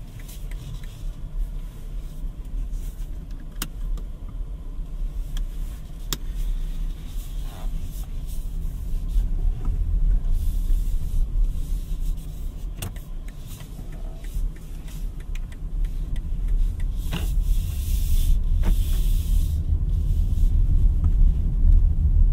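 A BMW iX3 electric car driving on the road, with a low steady rumble of tyres and road noise inside the cabin, gently swelling and easing with occasional small clicks and thumps.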